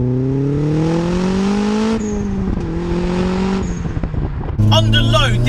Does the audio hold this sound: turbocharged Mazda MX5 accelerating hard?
yes